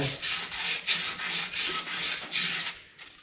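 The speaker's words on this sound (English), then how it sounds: "A little bit of sandpaper, just clean up the inside of that hole" Rhythmic rasping of sandpaper rubbed back and forth inside a hole during a Toyota Hilux ball joint replacement, about a dozen quick strokes in a steady scratchy pattern, close and fairly loud.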